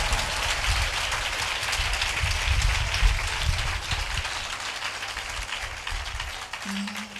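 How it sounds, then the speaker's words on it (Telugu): A church congregation claps together in praise of God during a Sunday live worship service, a dense, steady roll of applause that fills the whole stretch without letting up. "అలాగూ చేస్తున్న దేవునికి చప్పట్లు కొట్టి మహిమ పరుస్తాం."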